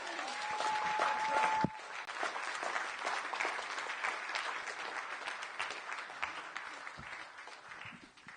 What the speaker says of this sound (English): Give another big round of applause for our sister, Pania.